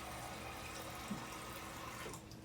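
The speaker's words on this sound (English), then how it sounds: "And then I'm going to put some water in there." Water runs steadily into a cup holding strawberry scraps, a soft continuous pouring trickle at low level throughout.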